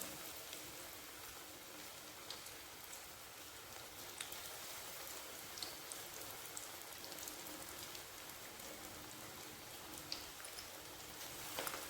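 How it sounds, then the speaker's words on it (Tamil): Rava bonda balls sizzle steadily in hot oil, a dense even crackle with scattered sharp pops, close and fairly quiet, with no talking. "எண்ணெய் சூடாயிடுச்சு நம்ம வந்து போண்டா வந்து போட்டுடலாம்"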